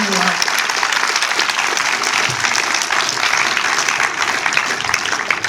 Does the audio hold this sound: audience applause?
yes